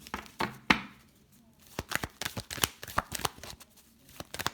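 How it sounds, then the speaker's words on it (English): Tarot cards being shuffled by hand, a run of crisp riffling flicks and soft slaps in uneven bursts, close and fairly quiet with brief pauses between. "I'm going to shuffle."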